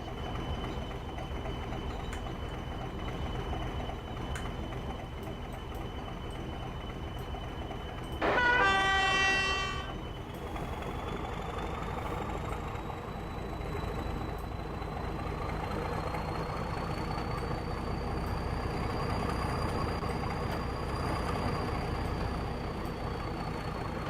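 Class 31 diesel locomotive in the Trainz Plus simulator, a steady engine drone with a loud two-second horn blast early on, followed by a slowly rising engine tone as power builds.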